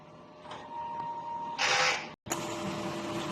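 DTF printer running a print head clean cycle: a quiet mechanical hum with a steady tone, then a brief loud whirring burst, a sudden cut to silence and a return of the running drone.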